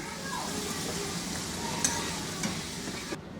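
Potatoes frying in oil over medium heat give a steady, even sizzle throughout, with a couple of faint clicks and taps near the end.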